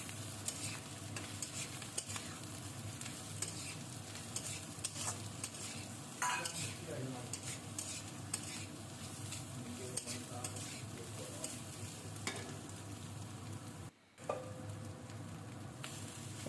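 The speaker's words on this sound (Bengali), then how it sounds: "এই সবজিগুলো আমাকে খুব বেশি ভাজতে হবে না, হালকা করে ভাজলেই হবে।" Vegetables for egg Maggi fry lightly in a pan with a continuous soft sizzle and frequent stirring scrapes, close but fairly quiet, with a brief dropout near the end and no voices.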